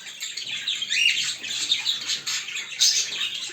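A blue male pet bird courts its mate with a busy run of close, loud chirps, warbles and squawks that rise and fall without a break.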